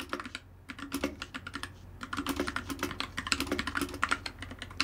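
Keys clatter on a Hemingway Freewrite Signature Edition writing device, a rapid, uneven burst of close, crisp mechanical clicks with a brief pause near the start, heard alone without talk.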